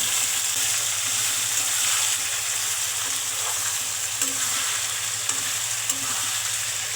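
Chopped onion hits frying potatoes in a pan for a green banana kofta curry, giving a steady, close sizzle with scraping stir strokes throughout and no talk.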